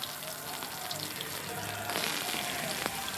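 Mixed winter vegetables being fried in a pan before potatoes are added, a moderate sizzle and spatter up close with light stirring, the frying growing slightly louder partway through.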